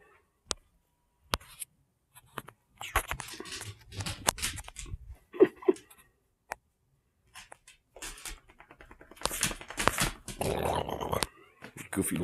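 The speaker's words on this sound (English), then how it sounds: "Goofy little dog." A small dog growls playfully in short rough bursts mixed with rustling and shuffling handling noises, fairly close, with quiet gaps between.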